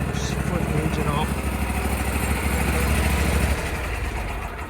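The engine of a Bowie Lancer 600/700 hydroseeder runs loud and close with a steady rumbling drone, then settles slightly lower as it is idled down.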